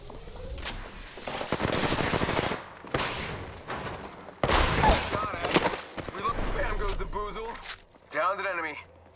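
Rapid gunfire bursts in a shooter video game rattle close and loud in several separate volleys. A voice talks between and over the shots.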